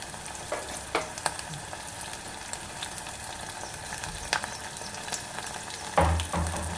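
Onions and green chillies frying in oil produce a constant close sizzle punctuated by sharp spatters and stirring knocks, with a louder burst near the end.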